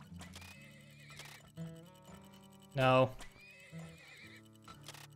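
A horse neighs in the oil-drilling game Turmoil, one loud whinny in the middle of upbeat background music, with a voice speaking briefly.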